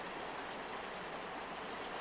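A river rushes steadily along a Trans-Siberian cycling route, a broad, even wash of flowing water heard close and alone, with no voices.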